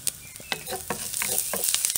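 Onion frying in a pot with a little oil, a close sizzle broken by several sharp scrapes and taps of a utensil stirring against the pot.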